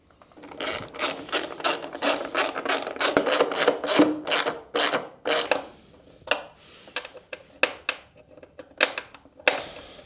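Bolts being tightened on a carbon-fibre Kawasaki Ninja H2R motorcycle, a close, loud run of rapid ratchet clicks that breaks into scattered bursts and pauses.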